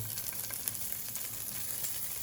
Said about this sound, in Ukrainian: і смажуємо трошки і заливаємо тістом знову